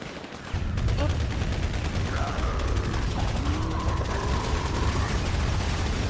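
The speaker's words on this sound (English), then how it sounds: "Someone shooting!" Rapid gunfire crackles in GTA 5 during a zombie-invasion Halloween event, dense repeated shots over a busy mechanical din, with a voice faintly present.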